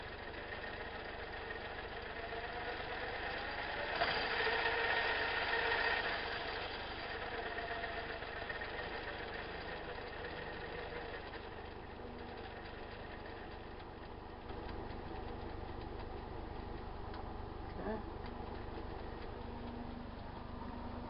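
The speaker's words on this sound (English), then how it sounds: "we'll go ahead and turn this on here a little quicker now, and we'll take a look at the speed of the motor" A small electric motor driven by a PWM speed controller runs steadily throughout, a continuous mid-level whine and hum that swells briefly early on, then holds an even tone with a slight shift partway through.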